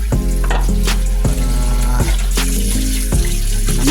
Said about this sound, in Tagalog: So yun guys, hugasan natin ng ating pata.